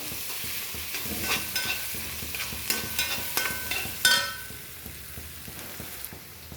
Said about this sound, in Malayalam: നല്ലതുപോലെ വഴറ്റി അതിൻ്റെ ആ ഒരു പച്ചപ്പ് മാറുന്നിടം വരെ നല്ലതുപോലെ വഴറ്റിയെടുക്കുക